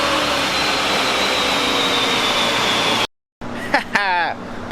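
Turbocharged Chrysler 300 Citadel engine running on a dyno, a loud sustained engine roar with a rising whine that cuts off abruptly, then resumes more roughly with a voice speaking over it.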